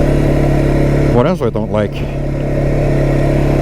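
A Kymco Maxxer 450i ATV engine runs loud and close at a steady, even drone for the whole stretch, while someone speaks briefly over it.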